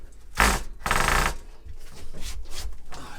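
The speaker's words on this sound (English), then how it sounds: "Let's try a different drill. Try a different bit." A power drill boring into the rotten wall of a Talbot Express camper van, several short, loud whirring bursts of drilling separated by brief pauses, close and without talk.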